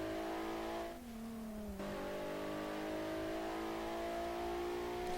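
A Nissan GTR engine in Garry's Mod drones steadily, with a brief dip in pitch as it shifts gear, then climbs in a continuous rising rev as the car accelerates, close and alone.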